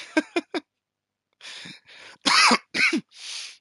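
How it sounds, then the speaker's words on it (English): Three quick sharp coughs come close to the microphone, then after a pause a series of harsher, breathy coughs and throat clearing, loud and alone. "Sorry, I got a cough."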